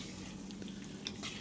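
Food bubbling and sizzling in a hot pot on a small stove while stealth camping inside a U-Haul van, a steady close simmer with faint crackles and no voices.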